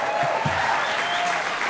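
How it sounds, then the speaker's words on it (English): A crowd at an awards presentation at the Beverly Hilton applauds steadily, a dense wash of clapping that holds at a constant loud level throughout, with no voices standing out. "Don't applaud her."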